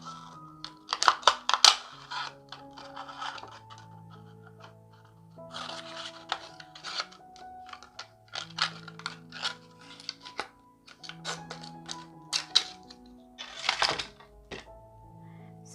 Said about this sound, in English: you want the top part of the bottle because you want the curve here. So we're going to go ahead and cut a strip out.